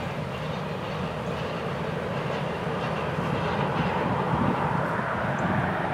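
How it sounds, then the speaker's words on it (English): A Florida East Coast Railway train rolls past milepost 236 on the main line, a broad, continuous rumble and roar of wheels and engines holding steady at close range. "Great day to be out and about watching a train."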